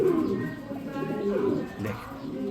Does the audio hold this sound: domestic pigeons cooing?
yes